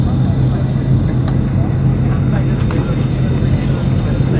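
Airliner jet engines roar steadily during takeoff at Changi Airport, a loud, constant, broadband rumble with a low drone, heard from a nearby vantage point, while a voice speaks over it.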